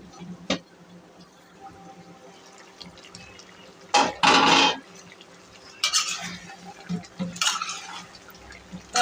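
A spoon scraping and stirring eggplant and liver curry in a pot, with a few short bursts of clattering and wet movement between quieter stretches.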